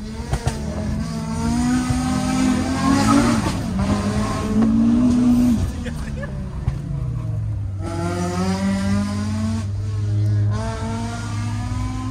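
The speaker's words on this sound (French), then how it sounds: "on vient de faire un petit plaisir avec la RS3 qui est juste là, de Mathias" Audi RS3 car driving hard on a road, a loud engine rising and falling through several revving pulls and gear changes, heard close for the whole stretch.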